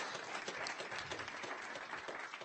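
An audience applauding together at an evening event on the future of Maryland manufacturing, a steady, dense wash of many hands clapping that holds at an even level for the whole stretch without talk.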